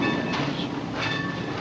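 A train rolls steadily along a railroad, with a continuous rumble and faint clickety-clack of wagons passing close by, loud and alone.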